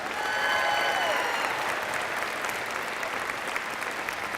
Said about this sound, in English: let's give a nice big round of applause to our president of Fort Hays State University